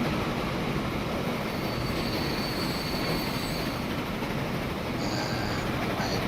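A freight train rolls along in the Transport Fever 2 video game, its continuous loud rumble carrying wheel squeal and rail noise with no break and no one talking.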